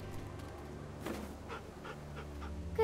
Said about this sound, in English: That's a good dog right there.